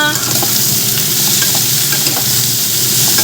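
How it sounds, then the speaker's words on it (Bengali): Food fries loudly in a pan, a dense continuous sizzle with occasional pops and soft stirring scrapes, close up and uninterrupted by speech. "এটা আমাদের তো ভাজাটা হয়ে এসছে এক্ষুনি হয়ে যাবে"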